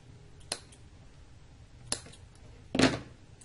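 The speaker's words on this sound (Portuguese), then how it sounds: "Você vai cortar este fio." Scissors snip through crochet yarn while finishing off a fluffy crocheted coat, giving three sharp isolated cuts spaced about a second apart, the last one louder and fuller, in a quiet room.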